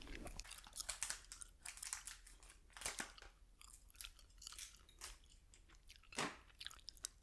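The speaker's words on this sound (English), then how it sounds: "Still chewing the gum." Close-miked chewing of gum during a whispered snack taste test: continuous wet, rhythmic mouth sounds with crisp crinkly clicks, steady and intimate, with no speech.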